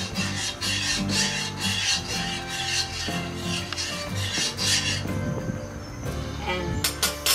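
Rice being stirred with salt in a pot using a utensil, a soft repeated scraping and rubbing with occasional light clinks, close and fairly quiet.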